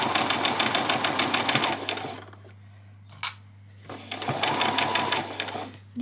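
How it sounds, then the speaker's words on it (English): A sewing machine stitching a line along fabric ruffles runs in a steady, rapid whirring rattle, pauses briefly with a click, then starts up again, loud and close. "I'm going to start by doing the top line of stitching"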